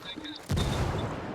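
Frag grenade blast in a shooter game, a sudden loud broadband boom that cuts in halfway and rumbles on, with faint voices and game noise before it.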